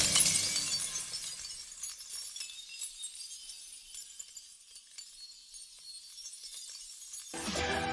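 An astronaut's helmet glass shatters in the animated film Mars Needs Moms, opening with a loud crash that decays into faint crackling for several seconds before a fresh burst of sound at the end.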